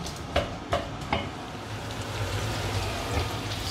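Diced carrots, celery and onions sizzle as they roast in a pan for a veal jus, with a few quick stirring scrapes at the start and then a steady close frying hiss.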